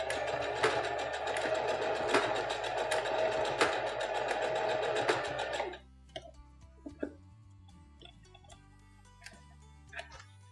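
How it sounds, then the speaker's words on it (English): A domestic sewing machine zigzag-stitches elastic onto a cloth pocket diaper, running in a fast, loud, steady whir for several seconds before stopping abruptly, followed by faint handling clicks and rustles. "You're still going to use a zigzag stitch, and you're going to go over it 3 or 4 times"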